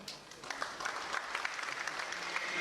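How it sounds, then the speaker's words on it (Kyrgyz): Audience applause at a regional army house reporting concert, a scattered patter of hands clapping that builds slightly over a few seconds, moderately loud with a faint murmur of voices in the hall. "Кол чабуулар."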